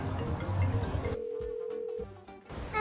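A phone call is placed to a courier, with a single steady electronic tone sounding for about a second after brief muffled handling noise, followed by faint clicks and quiet line noise.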